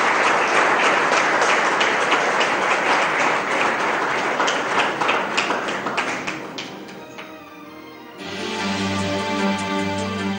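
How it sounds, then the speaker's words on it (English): Loud, dense applause from a business summit audience fills the room for about eight seconds, then thins briefly before a steady tonal hum of music or sound system takes over. "A huge round of applause."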